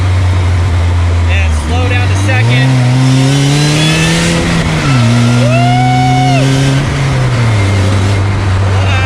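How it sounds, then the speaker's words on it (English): A DF Goblin street-legal go-kart engine revs loudly up close, its pitch rising and falling through several rev-matched shifts over a continuous drone, with a voice talking at times over it. "We can rev match a little bit"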